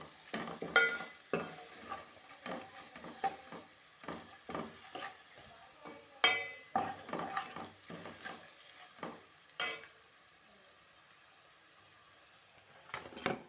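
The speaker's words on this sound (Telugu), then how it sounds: "అల్లం వెల్లుల్లి ఇలా పచ్చి వాసన పోయేదాకా కలుపుకోవాలి" Ginger-garlic paste frying in a pan is stirred with a spoon: quiet sizzling beneath a series of irregular scraping strokes, some sharper than others, with brief lulls between them.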